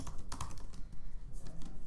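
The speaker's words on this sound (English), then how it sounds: "And then you would obviously type your question again." Steady, close clatter of typing on a computer keyboard, rapid keystrokes running continuously with no talk.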